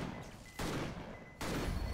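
Bursts of gunfire from the video game Victor Vran, two loud sustained volleys of rapid shots separated by a brief lull, heard alone without talk.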